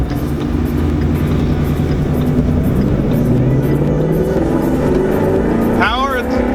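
A 2016 Ford Mustang GT accelerates hard, its engine roaring loud and steady from inside the car as the pitch climbs through a gear, with a voice breaking in near the end.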